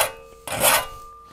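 Bench grinder clamped to a table sharpening rotary mower blades, a rough rasping scrape that swells loud in the middle of a short burst over a steady whine.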